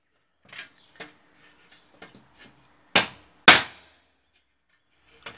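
A metal hammer strikes a bicycle part to straighten it, a handful of sharp, isolated taps with uneven spacing, the two strongest blows ringing out loudly in the middle, no voices.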